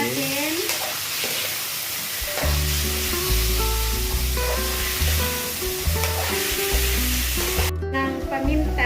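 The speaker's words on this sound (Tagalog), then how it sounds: "Nagba-brownish na. Yung chicken. Ayan. Tapos halo-haloin po natin." Browning chicken pieces crackle and sizzle loudly in a hot pan as they are stirred, a dense, steady frying noise with scraping motion, heard alone with background music.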